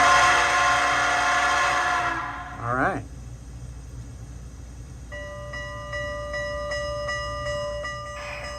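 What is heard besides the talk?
model steam locomotive whistle and bell sound effects, ESU DCC decoder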